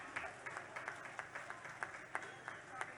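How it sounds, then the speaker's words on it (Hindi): A crowd at an outdoor civic development ceremony in Ujjain claps faintly and unevenly, with sharp claps rising every fraction of a second above a quiet murmur of voices. "उज्जैन वासियों की तालियां जोरदार होनी चाहिए"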